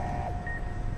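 An alarm beeps from speakers in the game Fallout New Vegas, giving steady electronic tones over a low background rumble that are moderately loud and sustained, with one brief higher tone partway through.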